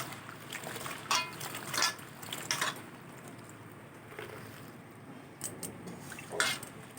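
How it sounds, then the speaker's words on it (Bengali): Taro (kochu) flowers being washed by hand in water, with the water changed between rinses: a steady close splashing and trickling with a few sharper sloshes and pours scattered through, no talking. "ভালো করে জল পাল্টে পাল্টে ধুতে হবে"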